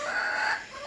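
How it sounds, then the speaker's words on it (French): A black Cochin bantam chicken gives a short, close, clucking call, brief and slightly strained, on its own. "nous avons notre coco noir caille, voilà, qui joue les"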